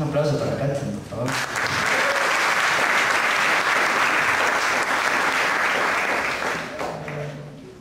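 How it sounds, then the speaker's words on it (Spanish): An audience at a cultural evening applauds the singer Katherine: a loud crowd ovation swells after a brief voice and holds steady for several seconds before tapering off. "Un aplauso para Katherine, por favor."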